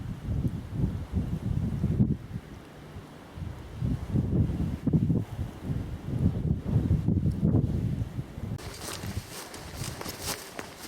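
Gusty wind buffeting across open Dartmoor moorland near Hound Tor, rushing in uneven waves with low rumbling microphone buffeting and faint rustling, a brighter hiss rising near the end.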